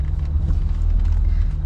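Vauxhall Chevette rally car engine drumming with a loud, steady low rumble while driving, heard close up for a short moment without talk.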